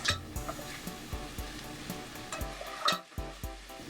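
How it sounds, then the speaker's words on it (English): Chopped sweet onion and green onion saute in hot oil, with steady sizzling and frying crackle under repeated stirring scrapes, fairly quiet and close. "Then saute your chopped sweet onion, mixed with some of the green onion as shown for like 1 to 2 minutes."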